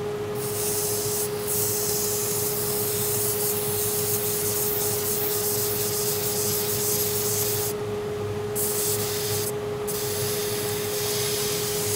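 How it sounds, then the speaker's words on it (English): Continuous gritty rubbing of hand sanding a Damascus steel knife blade runs steadily at close range over a constant hum, dropping out briefly twice near the end. "And then after that, it's on to hand sanding."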